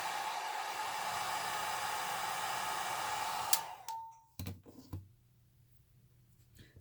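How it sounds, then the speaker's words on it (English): A hair dryer set on low blows steadily over wet paint on a flower painting made with Posca pens, a close, even whoosh that switches off abruptly, followed by a few clicks and light handling sounds. "And I'm using the dryer"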